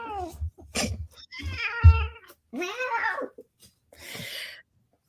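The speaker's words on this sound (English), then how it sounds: "the cat is in the way." A house cat meows several times indoors, close and fairly loud, with drawn-out cries and caterwauling tones spaced across a few seconds.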